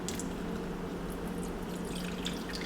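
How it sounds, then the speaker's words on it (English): Water is poured into sugar in a pot on a stovetop for a pineapple upside-down cake, giving a soft, steady trickle and splash, faint and close, with no voices. "To this, I'm going to add my water."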